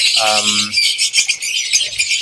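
A pet bird, once a free-flying hand-reared bird now somewhat wild, gives one loud harmonic squawk near the start, followed by lighter chirps and rustling over steady broadband background noise.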